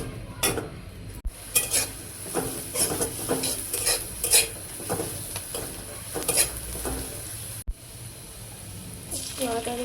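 Chopped onions frying in a little oil in a home kitchen pan, a soft sizzle running beneath frequent stirring and clinks of a utensil against the pot, with occasional sharper clatters.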